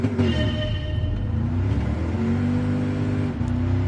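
A truck engine in the racing video game Gran Turismo Sport revs and pulls up through the gears, a loud, close, droning rumble with rising tones and brief dips between shifts.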